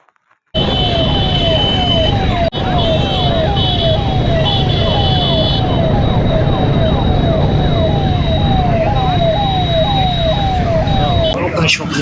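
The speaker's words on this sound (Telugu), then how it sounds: "పోలీస్ శాఖ మరియు రవాణా శాఖ ఆధ్వర్యంలో చిన్న మోటార్ సైకిల్ ర్యాలీ" Small motorcycles ride past steadily in a helmet-awareness rally organised by police and transport officials in Naidupeta, with continuous engine drone and a rising, repeating siren-like whoop throughout.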